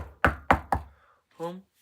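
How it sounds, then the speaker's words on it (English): Three sharp, evenly spaced knocks on a door, close and crisp, followed by a brief spoken sound. "they knocked on the door of the home"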